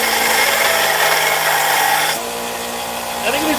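A belt sander with a 120 grit belt grinds steel in a loud, continuous, close-up whine that drops in pitch and level partway through, then carries on more quietly.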